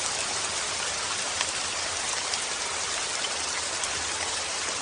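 Steady rain falls evenly and continuously, a dense unbroken hiss of drops at moderate, constant loudness with no voices over it.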